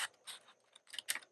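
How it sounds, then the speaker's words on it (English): Scissors cut a line into paper in a few quick, faint snips and crisp rasps at close range, with no talk. "So we're going to take our scissors and cut a line here."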